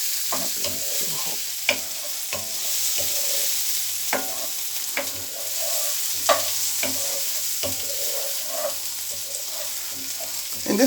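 Purple carrots and other vegetables are stir-fried in a pan, with a constant close sizzle broken by repeated utensil scrapes and clacks against the pan.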